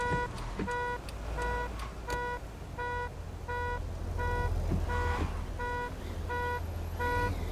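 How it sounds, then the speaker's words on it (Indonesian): A car alarm goes off after a crash in the driving game Taxi Life, sounding a steady repeating electronic beep at an even rhythm over a continuous low rumble of traffic and engine noise, with no talking. "sampai bunyi itu alarmnya"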